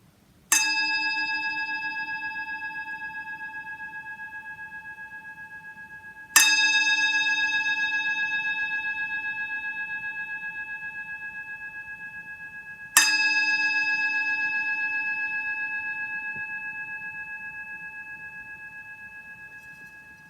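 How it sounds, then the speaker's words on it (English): A meditation gong is struck three times at slow, even intervals to open a mindfulness practice, each clear ringing tone sustaining and fading gradually before the next strike, heard alone in near silence. "I'll ring something called the gong just to begin the practice and to conclude."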